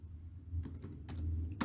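Soft computer keyboard typing during a MySQL database session, a few scattered clicks and taps over a low background hum, fairly quiet and close, no voices.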